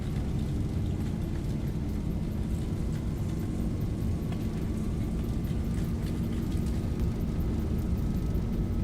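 Airliner engines spooling at takeoff thrust in a flight simulator with the Zibo mod, a dense, constant roar with a steady whine layered over it, loud and unbroken.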